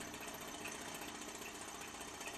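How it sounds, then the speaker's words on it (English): A small thermoacoustic engine heated by a methane burner runs with a faint, steady buzzing hum. A little rough flutter sits over a constant drone, and no one talks. "It's what's called a thermo-acoustic engine."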